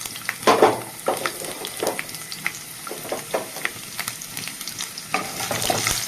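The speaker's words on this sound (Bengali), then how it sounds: "আমি একটু তেল দিয়ে দিলাম, ওর মধ্যে দিয়ে দেবো একটু কালো জিরে, দিয়ে দেবো কটা রসুনের কোয়া" Nigella seeds and garlic cloves sizzling in hot oil in a pan, a crackling fry broken by repeated stirring scrapes and clicks, close and fairly loud, no voices.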